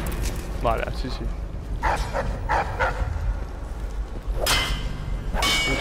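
Dog barking in the video game Dishonored, a few sharp barks and yips scattered across the clip, loud and mixed under a man's speech and game background noise.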